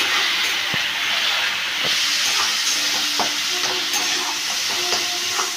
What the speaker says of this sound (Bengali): যতক্ষণ পর্যন্ত তেল না ছাড়ে আমি মশলাটাকে ভালো করে কষিয়ে নিচ্ছি